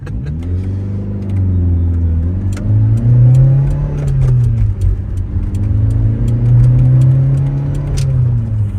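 A 1987 Toyota MR2's small engine revs loudly and close by, pitch climbing and easing repeatedly as it is wound up, with occasional clicks and ticks.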